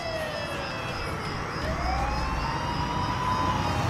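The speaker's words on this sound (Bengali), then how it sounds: "তার আগেই একটা পুলিশের গাড়ি এসে থামে বাড়ির সামনে" A police car siren rises and falls as the vehicle arrives in a Bengali detective audio drama, moderately loud and steady with a background drone throughout and no speech.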